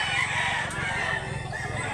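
Chickens at a poultry market in Mantalungon, Barili, Cebu, including a tiger hen, cluck and crow in a dense nearby chorus, with faint voices blended into the background.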